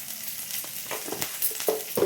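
Spice masala with ginger paste and turmeric frying in oil, a soft sizzle with a few light stirring scrapes, quiet and close.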